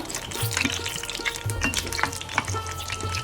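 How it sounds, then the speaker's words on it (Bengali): Dried red chillies frying in hot oil in a pan, a steady close sizzle with stirring scrapes and soft clatter, no voices. "শুকনো মরিচটা ভেজে নিব লাল লাল করে"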